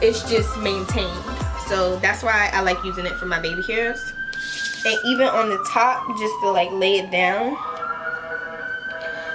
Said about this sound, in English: This is the local ambulance that likes to go by every freaking 30 minutes.